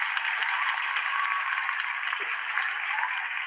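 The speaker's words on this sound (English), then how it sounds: "let's give Andrea Sharp a big round of applause" An audience at a poetry event claps steadily throughout, a dense even wash of applause with no pauses, no talking on top.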